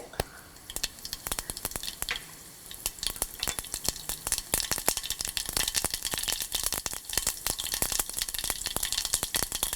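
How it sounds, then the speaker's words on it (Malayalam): Mustard seeds spluttering and popping in half a tablespoon of hot oil in a frying pan, a dense run of sharp crackling bursts that grows busier and louder over the stretch. "ഒരു ഫ്രൈയിങ് പാനിൽ 1/2 ടേബിൾ സ്പൂൺ എണ്ണ ഒഴിച്ച് ചൂടായി കഴിയുമ്പോൾ കടുകിട്ട് പൊട്ടിക്കുക."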